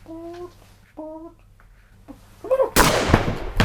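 Gunshot sound effect as an officer shoots everyone in a room, a loud burst of gunfire crashing in near the end after quieter tonal sounds and brief voice-like noises.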